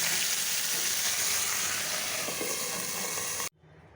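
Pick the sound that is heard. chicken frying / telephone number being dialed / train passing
chicken frying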